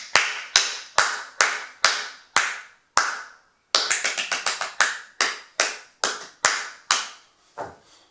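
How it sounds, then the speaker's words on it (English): Sharp hand claps ring out alone, a steady run of single claps, then a brief pause, a quick flurry and a few slower, spaced claps that trail off. "tell your child to clap with its hands to get McRed's attention"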